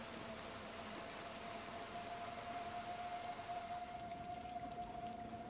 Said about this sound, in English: This is raining.